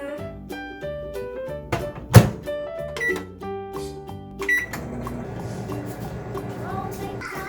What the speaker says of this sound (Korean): 자 이제 다 됐으니까 전자레인지로 바로 오죠.